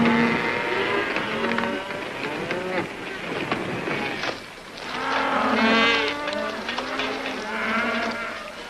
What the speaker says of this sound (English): Cows on the Cariboo trail?